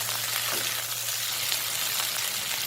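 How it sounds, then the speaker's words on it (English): Steady, continuous sizzling of chicken pieces frying in a hot wok, even and unbroken throughout, with no voices. "Make sure you don't fry the chicken pieces for too long because they will become hard."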